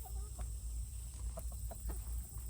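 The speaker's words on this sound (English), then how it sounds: "That's the rooster. That's Tiny and Kane." Backyard chickens, including a rooster, give soft, scattered clucks against a steady hum, faint and somewhat distant.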